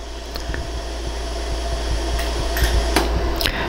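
A 100-joule laser welder fires short pulses while adding 14 karat yellow gold to worn ring tips, the sharp ticks sounding irregularly over a steady fan-like hum.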